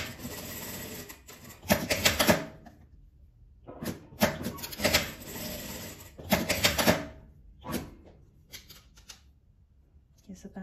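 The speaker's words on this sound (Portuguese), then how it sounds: "vou passar a costura de um lado e do outro" A sewing machine stitching a fabric clutch seam in short bursts of rapid mechanical whirring and clatter, stopping and starting several times, close and fairly loud between brief quiet gaps.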